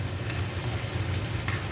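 Red chilli chutney sizzles in a pan on a stove with tomato in it, a loud, close, continuous frying hiss with a low bubbling rumble and occasional spoon scrapes, no voices.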